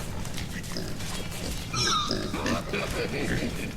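A pig in the War For The Overworld video game grunts and squeals as it is slapped and explodes, game sound effects over a constant dense background of game noise, with a brief louder burst midway.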